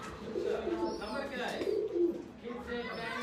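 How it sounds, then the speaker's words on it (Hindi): A French pigeon in a breeding setup, giving soft, low cooing phrases that rise and fall a few times, with someone talking close by. "ये फ्रांसीसी कबूतर है जी"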